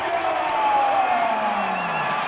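Pavilion crowd cheering after a pin at a 2002 college wrestling dual meet between Minnesota and Ohio State, a sustained roar of voices with whoops.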